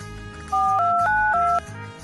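A phone ringtone playing a short, bright stepped melody for about a second, loud and clear over a low background hum, with no talk over it.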